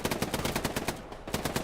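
Mounted machine gun firing in the World War II shooter Hell Let Loose, rapid sustained bursts of loud, evenly spaced shots with one brief pause before the firing resumes.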